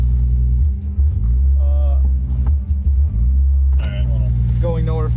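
A 1990s Japanese car's engine idles with a deep, steady rumble, briefly climbing into a short rev twice while people talk nearby.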